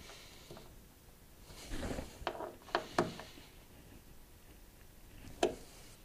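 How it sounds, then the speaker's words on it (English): T30 bolts on a Toyota Tacoma Retrax XR tonneau cover are tightened by hand, giving a few quiet, close metallic clicks and ratcheting ticks spread unevenly over several seconds. "Now we'll torque those down by hand."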